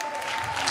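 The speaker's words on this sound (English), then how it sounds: "Kindly give a round of applause." Audience applause at a pageant event: a brief, dense burst of clapping that holds at a steady loudness, with a hint of voice underneath.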